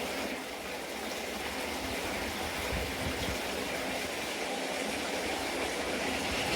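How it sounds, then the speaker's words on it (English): Water runs steadily at the portal of the disused Burdale Tunnel on an old railway line, a continuous broadband rush of flowing water without pauses, moderately loud and unbroken throughout. "And that noise you can hear, it's our old friend water."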